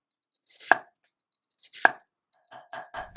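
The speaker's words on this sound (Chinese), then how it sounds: "洋葱切丁， 土豆也切片，不需要切得太薄。" Knife chopping onion and potato on a board: two sharp, well-spaced single chops close up, followed by a quicker run of lighter cuts.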